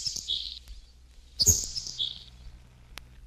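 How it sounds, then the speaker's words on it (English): A Sharp-tailed Sparrow gives two wheezy, hissing high buzzes, the second louder, separated by a brief pause and ending with a faint tick. "Sharp-tailed Sparrow."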